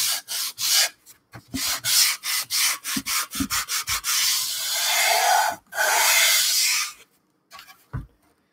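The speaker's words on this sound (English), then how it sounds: "we'll sand first" Sandpaper rubs in short, rhythmic strokes over a miniature brick wall for a diorama, a run of quick scratchy passes followed by two longer sustained scrapes and one final stroke, close and alone with no talking.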